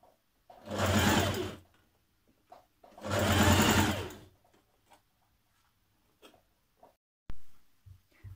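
Two bursts of fast sewing machine stitching, each about a second long, run a 1.5 centimeter seam on a Simplicity 8594 dress, close and crisp, with quiet clicks and handling noise in the gaps.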